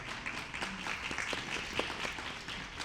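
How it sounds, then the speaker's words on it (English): A crowd at a Black business month mixer applauds, a soft, continuous patter of many hands clapping heard from a distance, even and unbroken across the short stretch, with no talking. "give yourselves a round of applause"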